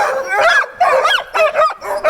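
Young and older sled dogs yip and bark in a quick run of high, whiny yelps, loud and close with no talking.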